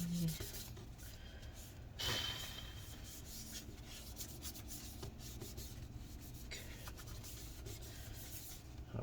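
Rubbing alcohol being rubbed with a cloth over the internal parts of a 2012 15-inch Retina MacBook Pro A1398, a steady close-up scrubbing rasp with brief louder strokes and no talking.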